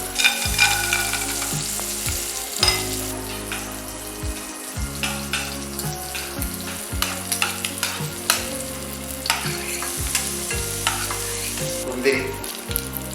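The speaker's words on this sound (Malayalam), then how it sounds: "നമുക്ക് ഈ ഡിസൈൻ ചെയ്യാനുള്ള കശുവണ്ടി അതിൽ വറുത്തെടുക്കാം." Cashews frying in ghee in a pan crackle and sizzle steadily while a utensil stirs them, with repeated scraping strokes and clinks against the pan throughout. No one speaks.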